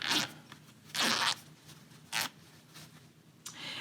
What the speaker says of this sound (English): So I'm going to pull the zipper apart.